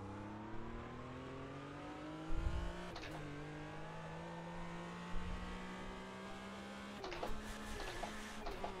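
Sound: race car gearbox mis-shift in Automobilista 2 video game

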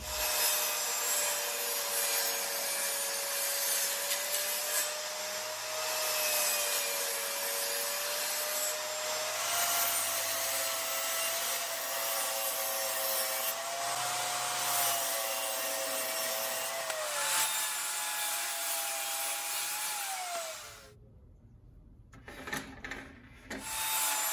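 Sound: saw blade cutting wood at a 20 degree angle

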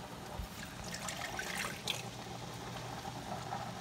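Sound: water poured into a pan

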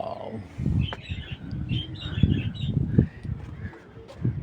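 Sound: pigeons

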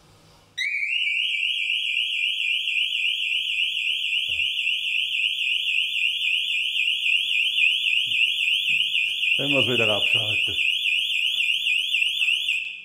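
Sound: home security alarm siren triggered by motion detector

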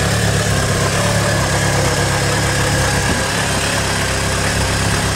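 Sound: Vauxhall Astra engine running briefly without coolant

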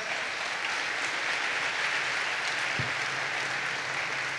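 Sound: applause

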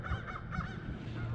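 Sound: geese calling on a lake

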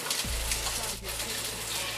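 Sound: egg frying in olive oil

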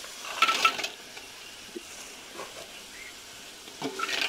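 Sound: ginger garlic paste sautéing in oil

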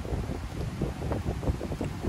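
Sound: wind during a storm while camping

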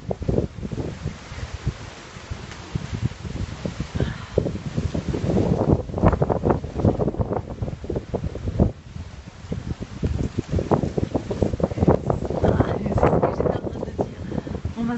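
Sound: wind blowing during a storm chase

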